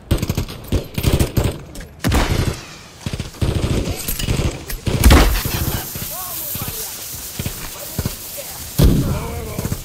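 Bursts of automatic gunfire in Call of Duty: Modern Warfare 3, set in Verdansk at night, loud repeated volleys with short pauses and occasional heavier blasts, mixed with voices.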